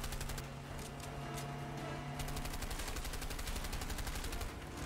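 Rapid gunfire from the video game A Way Out fills the clip, a steady dense volley of shots throughout the final fight, loud and continuous with no talking.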